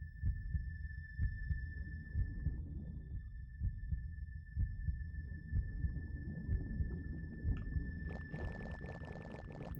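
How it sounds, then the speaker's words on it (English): Steady, slow heartbeat throbbing from a dungeon in the video game .hack//Mutation, a low muffled double pulse repeating evenly over a droning hum, with a couple of thin sustained tones and a brief shimmering burst near the end. "Of course, the dungeon's heartbeat makes it seem like our heartbeat."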